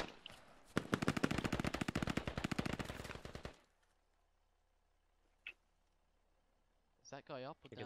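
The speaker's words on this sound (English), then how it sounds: "See if Ram reacts to that M4 fire" M4 rifle fire in the Squad military shooter game, a long rapid automatic burst of about three seconds, loud and close, followed by quiet with a single distant shot and a voice speaking at the end.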